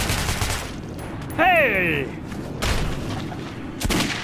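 Gunfire crackles through a chaotic video game battle, dense bursts rising at the start and again near the end, mixed with shouting voices, a sharp yell and a sweeping tonal sound in the middle.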